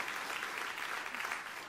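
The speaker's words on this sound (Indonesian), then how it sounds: "Tepuk tangan yang meriah untuk kemuliaan." Sustained, even applause from a church congregation at a Christmas Eve service fills the space from start to finish, many hands clapping at once without a break.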